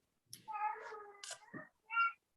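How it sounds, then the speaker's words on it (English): A domestic cat meows close by: one long, drawn-out wavering meow followed after a short pause by a brief, sharper second meow, with no talking. "that's my cat."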